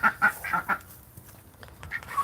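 A pet duck named Duck quacks in a quick series of loud nasal calls, then follows with softer, scattered quacks and rustling close by.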